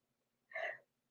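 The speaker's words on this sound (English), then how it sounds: "excuse me, I'm about to sneeze." A single short, breathy sneeze, quiet and brief, bursting out once against near silence.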